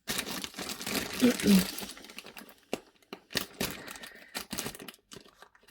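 Crinkling packaging from a parcel being opened, a dense rustling burst in the first two seconds, then scattered crackles and faint taps, close by with a little breathing or murmuring under it.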